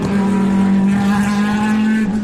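Le Mans race cars roar past with raucous petrol engines, a loud, sustained buzzing drone with a steady pitch throughout, close by and without speech.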